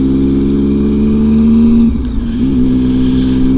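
Car driving on a gravel road along Royal George Road, a loud steady engine drone heard from inside with a brief dip and surge in revs partway through, no talking.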